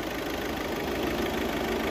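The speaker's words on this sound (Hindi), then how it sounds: "एक बार अब कार को स्टार्ट करेंगे, देखो भाई ये है ये कार की असली आवाज़।" A Volkswagen Polo with a 1.5 diesel engine and stage 1 remap idles steadily, a constant nearby rumble with a slightly knocking diesel texture and no voices.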